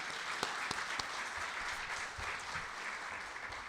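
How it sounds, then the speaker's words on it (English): Applause at a Rotary club meeting, a sustained patter of many hands clapping in a room, with a few sharper claps standing out near the start, fairly soft and steady throughout. "Let's give Frank another applause for his work."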